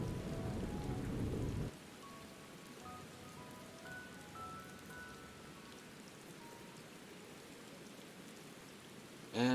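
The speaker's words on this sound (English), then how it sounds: "And it's raining." Artificial rain in Final Fantasy XIV hisses as a steady, even wash after a louder burst at the start, with faint game tones drifting above it and a sharp sound at the very end.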